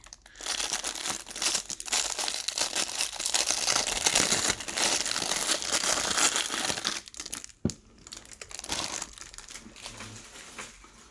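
A plastic bag inside another plastic bag crinkles and rustles up close for several seconds while twisty puzzles are unboxed, dense crackling that briefly stops, then resumes more softly.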